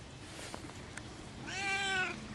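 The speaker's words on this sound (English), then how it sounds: "She's a Siamese cat." An outdoor Siamese cat gives one drawn-out, rising meow, faint and a little distant, after a few soft handling noises, with no speech.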